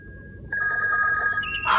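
An old-fashioned telephone bell rings loud and close in a 1976 film, a sustained metallic trill that starts abruptly and runs under steady background noise.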